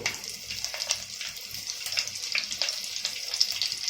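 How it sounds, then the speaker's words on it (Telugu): Cinnamon, mace, star anise, marathi moggu, stone flower and bay leaf fry in hot oil for prawn biryani, giving a steady, fairly quiet sizzle with small crackles and no talking. "ఇవన్నీ వేసుకున్నాక 1-2 నిమిషాలు ఇలా ఫ్రై చేసుకోవాలండి"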